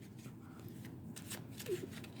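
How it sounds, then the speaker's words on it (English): Very quiet riffling and patting of a small deck of playing cards for the board game Castle Risk, soft papery flutters with a slight tap near the end, no voices. "You'll shuffle these cards, and you'll deal each player 3 cards"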